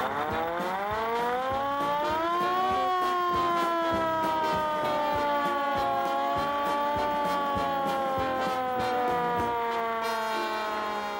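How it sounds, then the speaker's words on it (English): A hand-crank siren on a 1923 fire engine winds up to a loud, sustained wail that rises, holds, then slowly falls in pitch, heard up close without any talking. "And I guess we just couldn't resist giving the hand-crank siren a quick"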